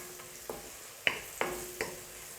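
Green chillies and bay leaves frying in hot oil give a steady faint sizzle, with a few distinct clicks and pops from a spoon or pan, close by and without talk.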